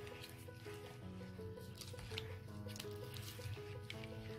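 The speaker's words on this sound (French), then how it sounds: "Mélangez bien. On doit obtenir une pâte en fait, pas trop liquide, un peu épaisse." Placali cassava paste for gombo okra sauce is stirred into a thick, heavy mix, giving soft, wet squishing and sticky slaps in an uneven rhythm, close up over faint background music.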